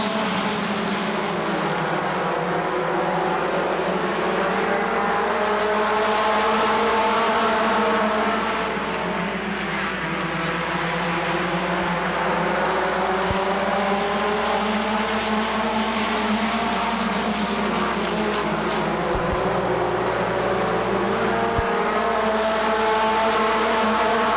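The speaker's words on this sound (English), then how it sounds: "so they'll be underway in a makeup feature race" Race cars roar away at the start of a makeup feature race at Rockford Speedway in 1996, a loud, dense wall of engine drone with rising and falling pitch that holds steady throughout, heard from the stands.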